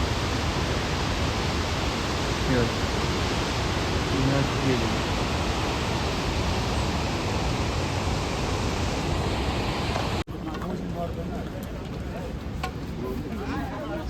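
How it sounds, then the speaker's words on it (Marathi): Loud, steady rushing water from a river flowing beneath a snow bridge on the Amarnath Baltal route, a continuous broadband roar that drops slightly in level partway through. "हा पूर्ण बर्फ आहे हावाला त्याच्या खालून खाली पाणी जाते इकडनं त्याची खाली नदी येते"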